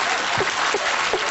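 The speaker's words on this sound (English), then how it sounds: "That sounded like very male applause." Studio audience applause on a television chat show, a short burst of brisk, dense clapping from a fairly small crowd, loud and close, with a few low voices underneath.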